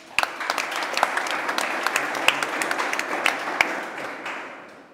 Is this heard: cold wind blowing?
no